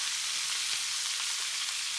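Vegetables and garlic sizzle in a pan while veal shanks roast in a home kitchen, a steady hissing crackle with faint stirring, close and continuous, with no voices.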